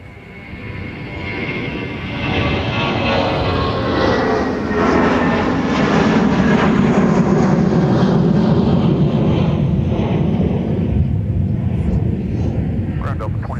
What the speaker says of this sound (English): we'll switch over and catch our A350 taxiing to the gate